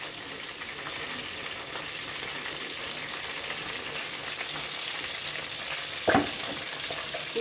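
Continuous close sizzling and spitting of tambaqui fish frying in hot olive oil in a pan, with a brief clatter near the end.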